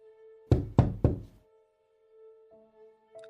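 Three loud, hollow knocks on a door in quick succession, a horror-story sound effect over a faint steady hum, followed by quiet.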